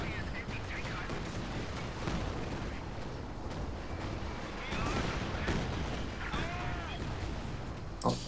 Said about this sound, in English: Here comes the Katyusha.